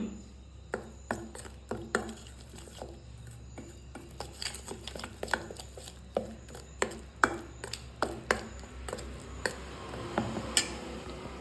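Chicken kebab marinade with egg white is mixed in a bowl, giving a run of sharp, regular taps and clinks of a spoon against the dish over a low steady hum, with no talking.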